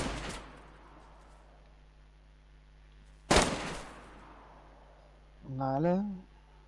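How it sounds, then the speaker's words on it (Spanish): Two sharp gunshots ring out in the DayZ video game, a loud crack near the start and a second one about three seconds later, each trailing off, followed by a short voice. "Tú sigue el sonido del tiro."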